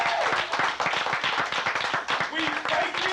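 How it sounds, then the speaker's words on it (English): A round of applause from an audience at a motivational speaking event, dense and steady clapping that fills the whole stretch, fairly close, with some crowd voices mixed in underneath. "round of applause."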